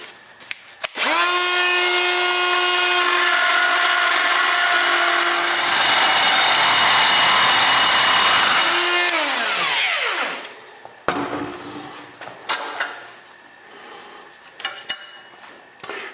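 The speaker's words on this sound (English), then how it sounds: "If you want to countersink a larger screw, you can use a larger burr." A loud, steady high-pitched whine of a rotary tool with a carbide burr cutting a countersink, running for several seconds before winding down, followed by quieter scraping and clicks.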